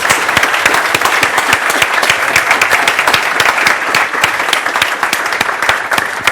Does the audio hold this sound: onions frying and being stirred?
no